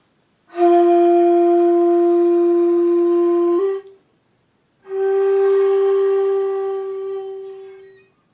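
Two long, steady breathy shakuhachi flute tones, the first about three seconds with a brief suru bend at its end, then a pause and a second held note that slowly fades.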